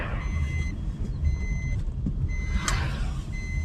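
A car's seatbelt warning chime repeats in regular beeps over the low rumble of the cabin, close and clear with no talk.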